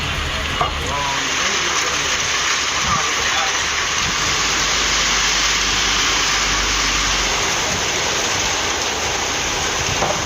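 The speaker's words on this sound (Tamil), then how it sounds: "வேலூர் மாவட்டம் காட்பாடி சுற்றுவட்டாரத்தில் இடியுடன் பலத்த மழை பொழிந்தது." Heavy rain with thunder around Katpadi in Vellore district, Tamil Nadu: a dense, steady hiss of downpour fills the scene throughout, with low rumbling underneath and a voice briefly heard over it.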